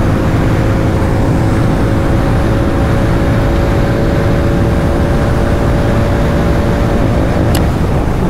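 A Hero Mavrick 440 motorcycle pulls hard in fourth gear near top speed, a loud, sustained engine drone with a slowly rising pitch buried in heavy wind roar for the whole stretch.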